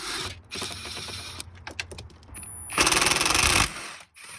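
Bolts come out during removal of the HVAC module on a 1999–2007 classic Chevrolet Silverado LT. Loud bursts of ratcheting and rapid mechanical rattling are followed by a sustained power-tool whir that stops abruptly.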